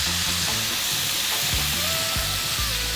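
Pork, bell pepper and carrot stir-fry in a hot pan with a loud, steady sizzle, broken by repeated scraping stirs and the clatter of food being tossed at a fairly even rhythm.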